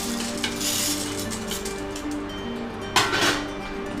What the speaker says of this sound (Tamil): பொரி வர்றது பாருங்கள், இதுதான் பக்குவம்.